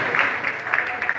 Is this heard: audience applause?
yes